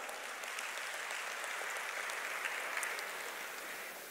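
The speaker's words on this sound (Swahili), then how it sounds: "naomba tumpigie makofi mengi sana." Steady applause from an audience at a primary health care conference in Tanzania, a continuous dense patter of clapping lasting the whole stretch, even and moderately distant, with no talk over it.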